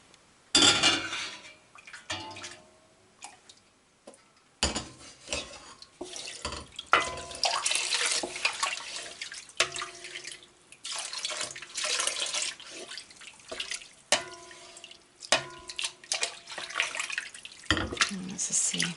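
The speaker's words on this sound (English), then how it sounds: "let's add the next lot of hot water" Hot water is poured into a vessel while Gouda sheep cheese is being made, splashing and trickling in irregular bursts alongside clinks of pots and utensils, close by, with a few short pauses between pours.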